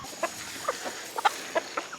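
Several short clucks from chickens near a coop, spaced irregularly and fairly close, with quiet background and no talk.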